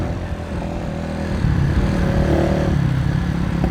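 A Benelli Motobi Evo 200 motorcycle fitted with an Akrapovic muffler runs nearby with a steady engine drone that rises midway as the rider opens the throttle and the bike pulls away.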